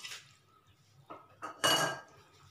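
Pasta and vegetables being stirred into white sauce in a pan: a few separate clinks and scrapes of a utensil against the pan, the last one louder and longer, with quiet gaps between.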